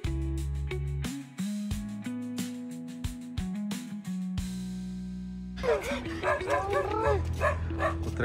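A group of alerted dogs on Hanuman Tekdi hill barks loudly and close in a rapid series of sharp barks, then breaks into excited yips and whimpers.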